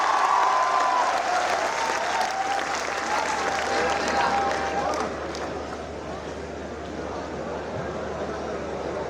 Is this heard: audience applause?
yes